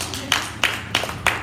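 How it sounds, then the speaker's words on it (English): A church congregation clapping hands in celebration, four sharp sharp-edged bursts of claps at roughly even intervals, fairly close and loud. "Clap your hands and celebrate God."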